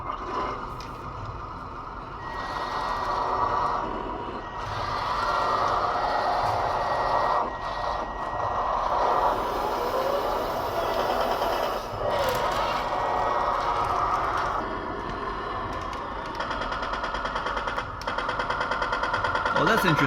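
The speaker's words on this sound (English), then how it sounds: "There's a motor that makes it move." A small motor drives a TongDe Churchill toy tank and its machine-gun turret, a steady mechanical whir running the whole time under constant talk and handling noise.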